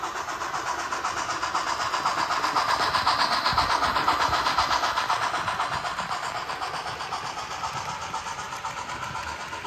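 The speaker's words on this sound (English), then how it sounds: "We're back to trains going chugga." A small model train motor whirs steadily with a faint rhythmic chugging pulse, a continuous mechanical hum holding even volume throughout.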